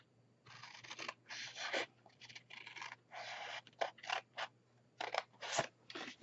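Scissors snip through paper while shaping a tea light cake box, a run of close, crisp cuts in uneven bursts with brief pauses between strokes, alone without talk.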